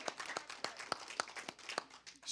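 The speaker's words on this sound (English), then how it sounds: "Give her a hand clap." Audience clapping for a math instructor at a college graduation ceremony, sparse, rhythmic individual hand claps at a moderate distance, fairly faint, with no talk over them.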